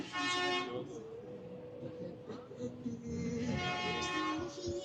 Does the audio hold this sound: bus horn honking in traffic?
yes